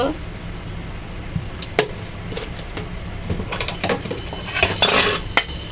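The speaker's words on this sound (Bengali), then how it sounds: "কড়াইটা বসায় দিচ্ছি, তেলটা দিয়ে দিব" A wok being set on a kitchen stove for cooking chicken bhuna, with scattered metallic clanks and clinks of cookware, building to a denser clatter near the end over a quiet kitchen background.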